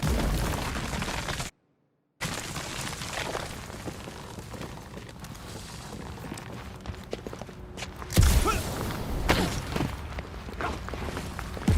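Explosions blast apart advertising in the Guardians of the Galaxy video game, with a dense rumbling din of blasts and thuds, a brief dropout, then a louder burst of booms near the end.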